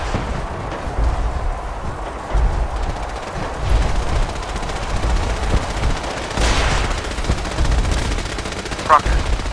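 Bursts of automatic gunfire crackle through a loud, dense battle scene in the video game Fallout 4, with sharper shots near the end.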